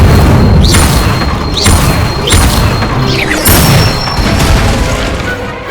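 Repeated spell-casting blasts from Hogwarts Legacy on Xbox Series S, including the fire spell Incendio, fire in four loud whooshing bursts with rising swishes, roughly one every second or so, over a continuous game soundscape.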